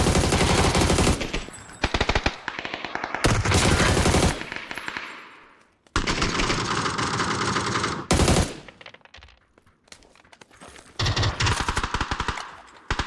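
Automatic rifle bursts in the PUBG battle royale game: several loud rapid-fire volleys of gunfire separated by brief pauses and quieter stretches, close and dominant with no talking over them.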